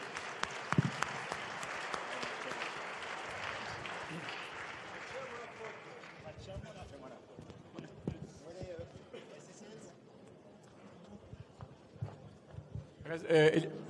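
Audience applause at a gala dinner with an awards ceremony, strong at first and then thinning out into scattered claps and voices, ending with a brief louder burst.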